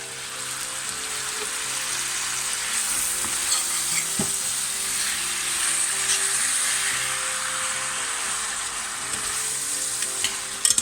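Tomatoes are stirred in a frying pan over a steady, close sizzle, with occasional scraping strokes and a sharp clack near the middle; no one speaks.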